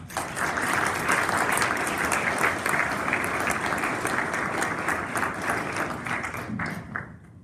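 An audience at a 2016 presidential debate event applauds as the debaters walk to their podiums, with loud, sustained clapping from a large room that fades out at the end.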